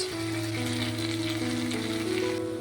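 Mutton with ginger, garlic, ground cumin, black pepper, turmeric and a splash of water sizzles steadily in a pan, a close, continuous frying hiss with faint stirring.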